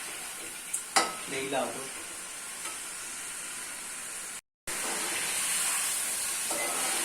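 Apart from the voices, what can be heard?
meat being stir-fried (bhuna) in a pan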